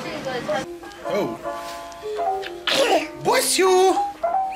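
A person sneezes once amid lively voices while touring Hong Kong, the sharp burst standing out near and loud between stretches of nearby chatter.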